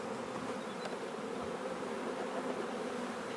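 Honeybees buzzing as they are scooped from a hive with a ladle, a dense, even, close swarm hum that stays constant throughout with no voices.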